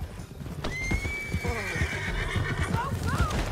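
A horse whinnies loudly in Red Dead Redemption 2, the long neigh rising and wavering over steady clip-clop of galloping hooves and busy ambient noise.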